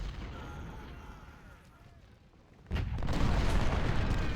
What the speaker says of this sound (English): Artillery is firing now.